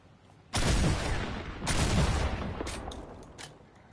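A shotgun in a PS5 game booms twice, each blast loud and wide with a lingering tail, followed by a few lighter, quicker shots further back.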